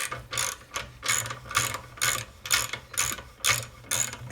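Ratchet working a bolt out of a Puma MT82 gearbox during a Defender strip-down, a series of about nine crisp, evenly spaced clicking bursts heard up close and alone.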